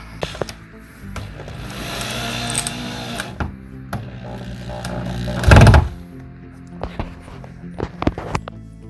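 Drywall screws, 1 1/4 inch, driven into wood with a power driver while building a toy storage display: a loud whirring burst near the middle, surrounded by scattered knocks, thunks and handling clatter, with no talking.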